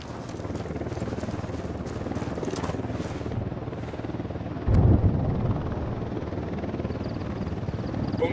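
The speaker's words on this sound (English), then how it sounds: "Don't need that chopper." Attack helicopter in Ghost Recon Wildlands: a continuous rotor drone with rapid blade chop holds steady throughout, interrupted about halfway by a sudden loud low thud, then settles back into the same steady beat.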